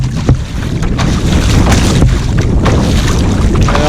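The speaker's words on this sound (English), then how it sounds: "it is incredibly windy, and we're getting a few waves crashing over our bows" Strong wind buffeting the microphone while kayaking in the Everglades, with choppy waves slapping and washing over the kayak bows, loud and continuous with irregular splashes.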